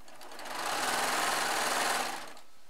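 A Baby Lock serger stitches fabric charm squares in one short, steady whirring burst that swells up quickly, holds for about a second and a half, then winds down, heard close and alone.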